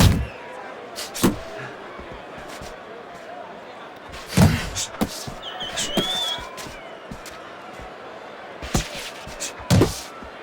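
Body punches landing in the Fight Night Champion boxing video game: a few sharp, loud thuds spaced several seconds apart, heard under steady commentary and background crowd noise.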